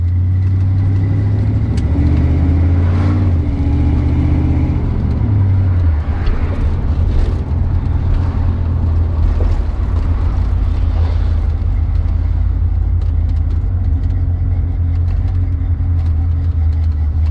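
A car fitted with new shocks drives along a road, its engine a steady, close drone throughout with a low rumble and no talking.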